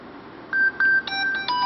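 Touch-tone phone dialing: a series of distinct DTMF beeps, some short and some held, fired in quick uneven succession, close and clear with no talking over them.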